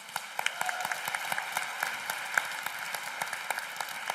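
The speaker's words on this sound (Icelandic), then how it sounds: "bara aftur gefum ennþá gott klapp" A crowd applauds steadily at a family Christmas gathering, with many hands clapping in a dense, continuous patter throughout.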